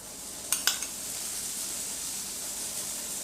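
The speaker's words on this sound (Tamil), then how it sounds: "அடை நல்லா மொறுமொறுப்பாக இருக்கிறதுக்கு சுற்றிலும் எண்ணெய் ஊற்றிடலாம்." Paruppu adai, a crisp lentil crepe, fries in a pan as oil is poured around its edge, a steady bright sizzle with a few quick clinks of a utensil near the start, close by and without talk.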